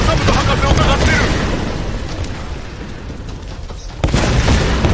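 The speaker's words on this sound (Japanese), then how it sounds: "だいぶ爆発しすぎでしょこれ" Loud, continuous explosions and rumbling blasts from the action game Tomb Raider fill the scene, easing for a moment and then bursting back in with a fresh boom.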